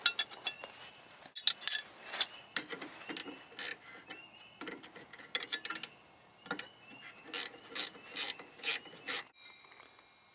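Brake bolts being tightened on a Honda CR-V during a rear brake job, a close sequence of sharp ratcheting clicks in quick irregular bursts with short pauses, ending in a fading ring.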